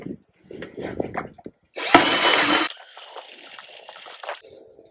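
A power drill with a paddle mixer churns concrete mix for making square tiles, a loud, steady whir lasting about a second, with speech-like sounds and clatter before it and a quieter grinding after.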